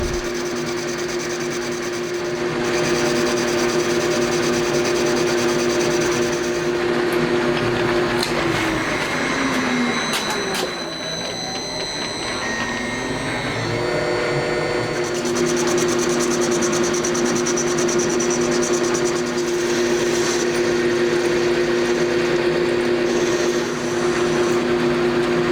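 A metal lathe turns as it finishes a machined part joined from two pieces, made for a Honda Monkey engine converted to a 124.4cc four-cylinder. It runs as a steady droning whir with a brief shift in pitch midway and no talking.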